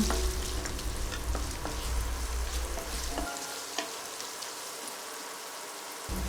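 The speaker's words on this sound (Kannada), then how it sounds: "4ರಿಂದ 5 ಹಸಿಮೆಣಸಿನ್ಕಾಯಿ, 1 ದೊಡ್ಡ ಗಾತ್ರದ ಈರುಳ್ಳಿ ಸಣ್ಣಗೆ ಹೆಚ್ಚಿರೋದು ಹಾಕ್ಕೊಂಡು ಚೆನ್ನಾಗಿ ಈರುಳ್ಳಿ ಟ್ರಾನ್ಸ್ಪರೆಂಟ್ ಆಗುವವರೆಗೂ ಬಾಡಿಸಿಕೊಳ್ಳಿ" Green chillies and finely chopped onion sautéing in a pan for jowar khichdi, a soft continuous crackle and sizzle with scattered spoon taps and scrapes, fairly quiet and close, a low hum dropping away midway.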